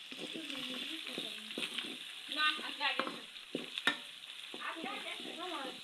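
Garlic, coriander and cumin paste sizzles in a pan while being stirred, with a steady hiss and some tonal sounds mixed in over the frying.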